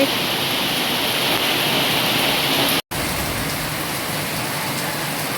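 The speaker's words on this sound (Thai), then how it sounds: "ฝนตกหนักอยู่ได้หนึ่งช่วงฝนเนาะพี่น้อง" Heavy rain pours down steadily at a Thai house near the mouth of a flooded lane, a dense, continuous hiss that cuts out for an instant midway and then resumes just as loud, with no voices.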